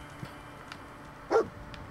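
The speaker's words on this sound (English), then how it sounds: "I hear a playful bark." A single short, playful dog bark from the Fallout 4 video game, moderately loud against a quiet background, with faint softer sounds before it.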